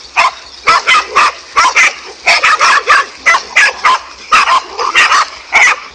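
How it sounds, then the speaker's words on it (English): A pack of five dogs confronting a king cobra barks loudly and close in rapid overlapping bursts, with yips mixed in, continuing without pause. "this king cobra managed to get in trouble with a pack of 5 dogs"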